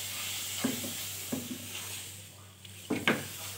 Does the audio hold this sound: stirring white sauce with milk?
yes